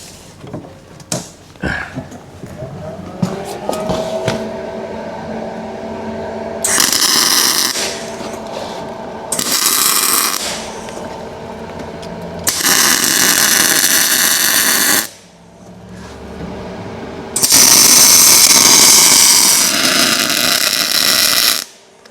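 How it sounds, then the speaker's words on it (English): Welding on a homemade car rotisserie for restoration work, with bursts of harsh crackling hiss lasting a few seconds each, separated by pauses with quiet clanks and handling noises, loud and close. "it also helps if you turn the welder on, I find."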